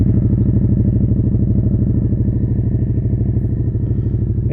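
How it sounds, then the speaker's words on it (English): A Suzuki SV650 motorcycle idling close by with its exhaust dB killer removed, a loud, deep, steady rumble with a fast, even pulse throughout. "So let's just start the bike up and have a listen to the exhaust note."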